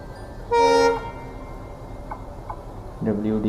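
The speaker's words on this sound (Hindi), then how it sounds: "सामने से कोई तो ट्रेन आ रही है EMD इंजन के साथ" Horn of a train hauled by an EMD diesel locomotive in India, one loud, steady toot of about half a second, followed by rail rumble and a second, shorter horn note near the end.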